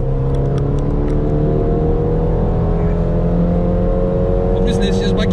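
A Renault RS petrol car engine accelerates: a steady, loud, full-bodied drone with rising tones fills the cabin throughout, with no speech over it.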